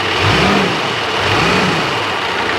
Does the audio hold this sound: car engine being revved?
yes